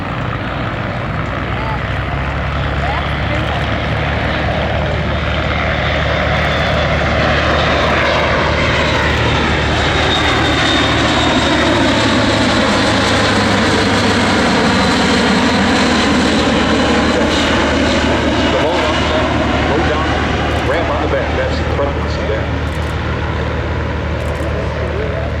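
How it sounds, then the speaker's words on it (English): A Luftwaffe Airbus A400M Atlas turboprop military transport flies a demonstration at an air show, its engines a loud, continuous roar with propeller drone that swells and shifts in pitch as it passes overhead. "let's watch and listen to the A400 Atlas from the German Air Force"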